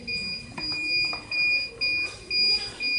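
Steady electronic beeps from a hoverboard with a low battery repeat in a regular on-off pattern, each about half a second long, clear and close, with faint background noise between them.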